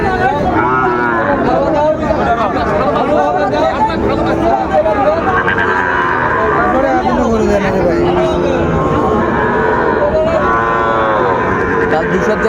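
Cattle moo loudly and repeatedly close by at a cattle market in Raniganj, over a constant hum of crowd chatter and voices.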